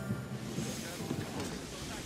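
A ship gets under sail at sea in Assassin's Creed Odyssey, with a steady wash of wind and water rushing continuously and fairly quietly throughout, no voices present.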